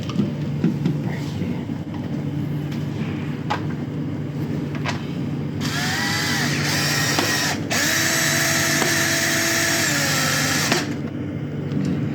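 A power drill drives screws to mount a LAN wall socket, giving a few steady whirring runs of several seconds each that stop and restart, heard close and fairly loud against faint background noise.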